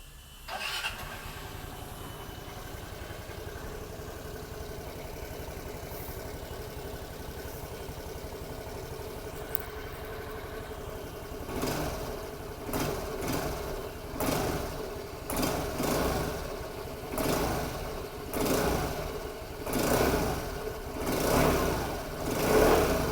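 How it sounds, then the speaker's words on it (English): A Vespa SXL125 scooter starts up and idles with a steady buzzing putter, then its small engine is revved repeatedly in rising bursts, the exhaust note growing louder and rougher toward the end. "let's start the engine and let me show you the exhaust note of the scooter"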